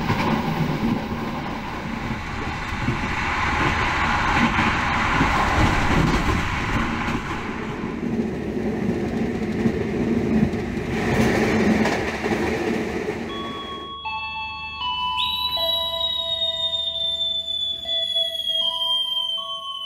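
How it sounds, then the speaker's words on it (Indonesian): The Argo Sindoro New Generation passenger train runs at speed, with a steady loud rumble and rattle for most of the stretch, then high squealing wheel tones over a quieter rolling hum near the end. "Kereta api Argo Sindoro New Gen, mantap."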